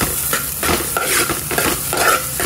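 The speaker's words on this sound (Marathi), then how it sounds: "इथे आपला कांदा भाजला गेलाय, आपण थोडंसं आलं लसूण टाकूया याच्यामध्ये" Fried onion with ginger and garlic is stirred in a pan for pav bhaji, making a loud, continuous sizzle with repeated scraping strokes of a spoon.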